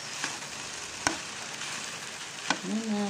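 Kalo-kalo fry in hot oil in a wok-style pan with a steady, close sizzle, broken by a few sharp clicks from stirring and a brief voiced sound at the end.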